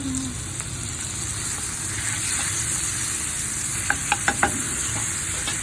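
Seafood and mushrooms sautéing in butter with a splash of soy sauce give a steady, close sizzle, with a few sharp utensil clicks against the pan near the end.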